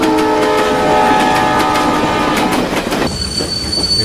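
A train rolls past close by, loud and continuous, with shrill wheel squeal ringing over the rumble and clatter of the wagons.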